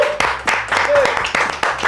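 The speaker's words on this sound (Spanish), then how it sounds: "Le damos un aplauso, ¿no, chiquillo, al profe?" A studio audience on a Chilean talk show claps in brisk, uneven bursts of applause for a guest, the sharp hand claps close and loud, with a voice briefly rising over them.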